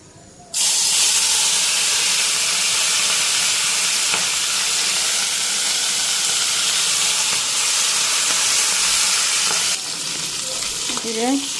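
Steam rushes in a loud, steady hiss from a pressure cooker cooking meat on a kitchen stove, starting abruptly and holding for about nine seconds before dropping off, with no talking.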